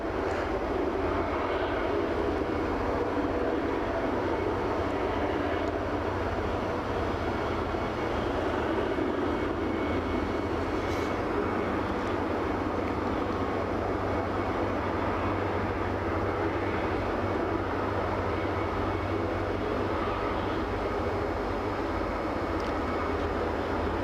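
A small propeller aircraft approaches Aberdeen airport, runway 16: a steady, moderately loud engine drone holds for the whole stretch without much change, with no voices.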